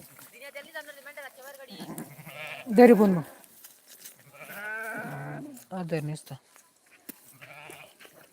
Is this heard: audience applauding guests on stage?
no